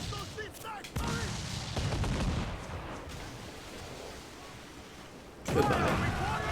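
Ship cannons fire in Assassin's Creed 4 with heavy booming blasts, one near the one-second mark and another louder volley toward the end, over rumbling battle noise and shouting crew.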